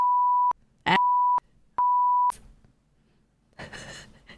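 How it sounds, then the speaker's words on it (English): A device gives three clear, steady electronic beeps, each about half a second long and close by, separated by soft breathy sounds, followed by quiet shuffling noise. "The beep is so funny."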